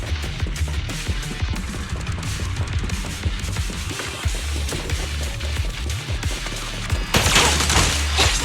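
Rapid gunfire bursts in the Zenless Zone Zero video game, dense crackling shots with thumps and impacts running nonstop and swelling louder near the end.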